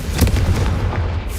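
Confringo spell explosion in Hogwarts Legacy, a deep booming blast with a rumbling tail that fades over about a second.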